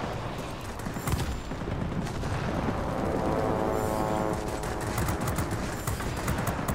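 Biplane machine guns in World of Warplanes fire in sustained bursts, a dense crackling rattle that runs almost without pause over a steady engine drone.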